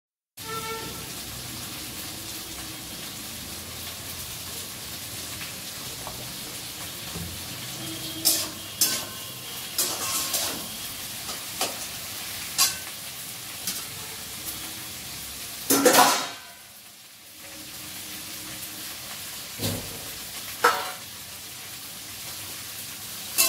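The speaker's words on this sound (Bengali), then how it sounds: "আমার এই ঢেঁড়স ভাজা দিয়ে" Okra fries in a pan with a long, steady low sizzle, punctuated by occasional sharp clinks and stirring knocks, with a brief quieter dip before the frying resumes.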